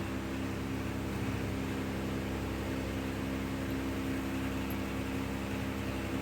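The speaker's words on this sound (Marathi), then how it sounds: "हे असे शंकरपाळे छान तळून घेते" Shankarpali sweets, thick-rolled dough pieces for Diwali, deep-frying in hot oil, giving a dense, steady hiss that stays even and close throughout with a faint low hum underneath.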